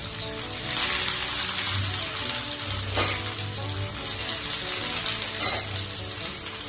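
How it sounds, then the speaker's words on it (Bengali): Onions are frying in hot oil while an egg kebab is being prepared, giving a continuous, close, steady sizzle with occasional stirring scrapes and no talk. "পেঁয়াজগুলোকে ভেজে নেবো"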